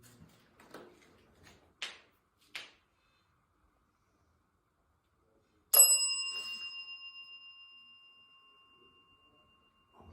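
A small bell is struck once, giving a clear ringing tone that decays over a few seconds, preceded by scattered faint clicks and footsteps in a very quiet space.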